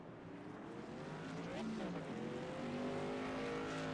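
Race cars run on a short oval bullring track in a Tour Mod series event, engines droning and shifting in pitch as they pass at middle distance, with a commentator talking over them.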